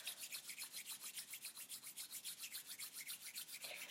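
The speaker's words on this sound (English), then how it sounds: "bringing your hands together and giving them a good rub" Two hands rub briskly together in quick, even back-and-forth strokes, a soft, close, rhythmic swishing that continues steadily for several seconds.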